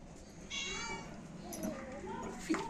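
A cat meows a few times indoors, fairly faint and short, amid quiet household background and a soft voice.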